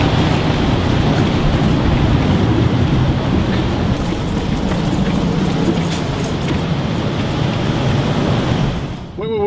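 Cars rush past on a nearby road in a steady, loud roar of tyre and engine noise that barely lets up for the whole stretch, with a brief dip at the very end.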